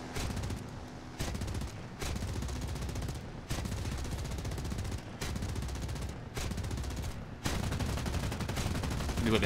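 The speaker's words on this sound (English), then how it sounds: "We've got the heavy MG on the back." Heavy machine gun fire from a vehicle-mounted gun in a video game, sustained bursts that run almost nonstop with a few brief pauses, loud and close.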